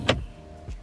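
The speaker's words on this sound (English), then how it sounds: "It hands you your seatbelt, but it went off apparently and scared me." A BMW's automatic seatbelt presenter extending inside the car, a short whirring motor burst followed by a second fainter motor sound, close and alone.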